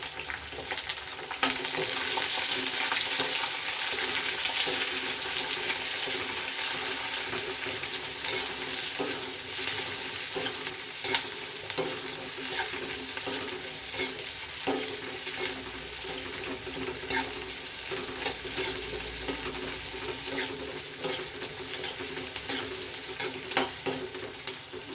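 Onions sizzle and fry in hot oil for vangibath while a spoon stirs them around the pan, a steady close crackle with scraping strokes and no talking.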